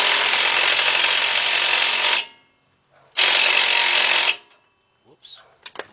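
Power tool tightening a bolt on the suspension of a 2005 Chevy Trailblazer, two loud sustained whirring bursts near the mic, separated by a pause, then a few faint clicks.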